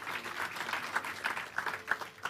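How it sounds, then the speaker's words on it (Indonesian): Church congregation applauding, a steady wash of many hands clapping at moderate distance, fairly soft and continuous for a couple of seconds. "Tepuk tangan boleh."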